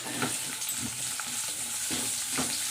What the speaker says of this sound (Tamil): எல்லாத்தையும் சேர்த்து நல்லா வதக்கி விட்டுக்கலாம்.